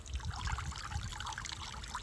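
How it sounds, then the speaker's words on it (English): Water pours through a strainer with bigger holes, a steady splashing trickle that stays close and even throughout, with no voices. "Let's see how the water runs through this one."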